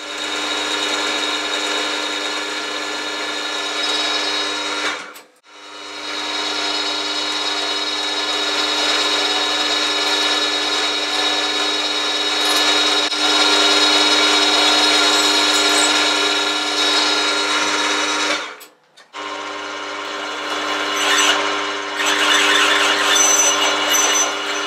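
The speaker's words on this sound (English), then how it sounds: "All I need to do now is drill a hole in here" A 10mm hole being drilled into a metal bracket for a DRO display mount, a steady loud power-drill whine running almost continuously with two brief pauses where the bit stops, no talking.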